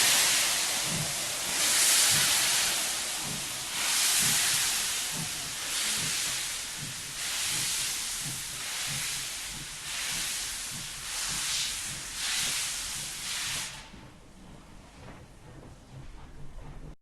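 A steam train in a video game arrives with loud, broad hissing of steam pulsing in rhythmic chuffs over a low rumble, fading sharply near the end as it comes to a stop.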